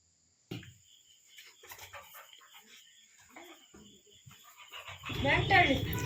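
A dog plays at a grandmother's rural home in Sagar, Shimoga, panting and giving small whimpering sounds amid scattered household noises, with people talking nearby and a louder burst of activity near the end.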